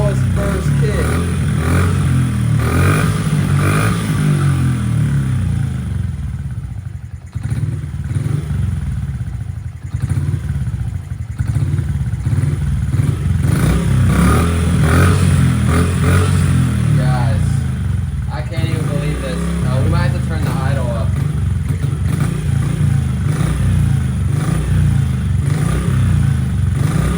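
A small pit bike engine, started with one kick, runs steadily and loudly throughout, with a dense mechanical clatter and occasional revs, while a person talks over it.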